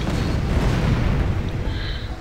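A dense, continuous rumble of booming artillery salvo explosions in a video game rolls on without pause, loud and low, like a heavy barrage thundering together.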